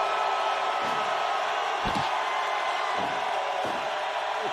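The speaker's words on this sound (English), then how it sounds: "Crowd's loving this." Steady roar of a video game wrestling arena crowd cheering, with a few slam-like thumps cutting through the continuous noise.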